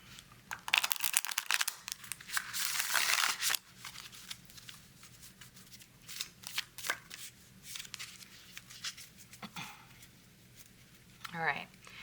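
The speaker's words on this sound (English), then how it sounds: "So I'm gonna do a quick shuffle." Tarot cards being shuffled by hand in quick bursts of riffling and sliding, close and crisp, with short pauses between rounds and a voice speaking at times.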